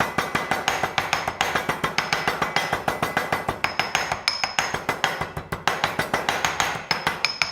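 A mortar and pestle pounding rosemary and lemon zest, with steady rapid strikes throughout, each a hard, ringing knock in a close, even rhythm with no talk.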